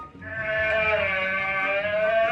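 An alpaca gives one sustained, high, whining call that lasts about two seconds, loud and clear with no other sounds.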